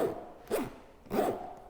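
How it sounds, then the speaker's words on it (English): Two quick pulls of a large, toothy brass zipper on a Filson XL Pullman bag made of thick twill with leather trim, each a short close raspy zip about half a second apart. "the zippers they're good."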